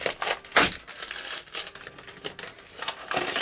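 Crinkling plastic wrapper on a strawberry chewing-gum candy package as it is torn open, with several sharp crackling bursts, close and fairly loud, and no talking.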